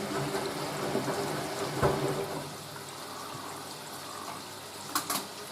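A Hoover A3060 Electronic 1100 washing machine fills with water at high cold pressure during a towel wash, giving a faint, steady rushing hiss, with a dull thump midway and a couple of brief clicks near the end.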